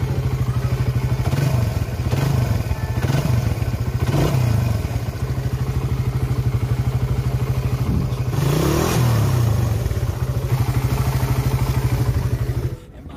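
A carbureted Suzuki FU motorcycle engine runs steadily at close range just after servicing, with several short revs swelling and fading over the idle and a bigger rev near the end.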